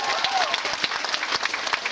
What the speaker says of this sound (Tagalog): Halata yung palakpak nyo.